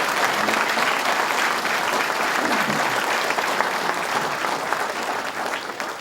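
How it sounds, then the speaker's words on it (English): An audience at a political speech on tax cuts breaks into sustained applause, a dense, steady wash of clapping that holds at full strength for about six seconds and eases slightly at the end. "That deserves a round of applause."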